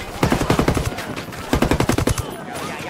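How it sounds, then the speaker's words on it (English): Rapid bursts of automatic gunfire in a Ghost Recon Wildlands cutscene firefight, two loud volleys of quick repeated shots with a brief pause between, then fading. "Opening fire on these fuckers."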